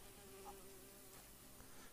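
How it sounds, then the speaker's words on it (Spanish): Flies buzz faintly and continuously in the video game A Plague Tale: Innocence, a quiet, steady insect drone with a few slightly closer passes and no speech. "Hay moscas."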